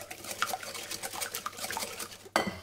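Two eggs beaten in a bowl for savory muffin batter: quick repeated light clinks and taps of a utensil against the bowl, fairly faint and close, ending with one louder knock.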